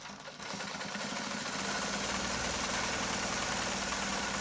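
A Juki LZ-2284 single-needle industrial lockstitch machine sewing a two-step zigzag: a fast, even mechanical whir that starts after a brief pause and holds steady and close, with no voices.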